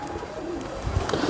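Lal Pari pigeon of Kasure bloodline cooing in a low, soft burble, a few close coos rising toward the end over a faint background hum.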